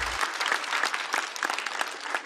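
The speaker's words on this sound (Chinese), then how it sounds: "再次掌声送给 Echo。" An audience applauds comedian Echo at a stand-up comedy show: a dense, steady wash of many hands clapping together, fairly loud and sustained for about two seconds, with no talk over it.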